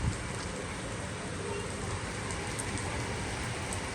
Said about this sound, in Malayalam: മഴ അവിടെ നിന്ന് പെയ്യട്ടെ.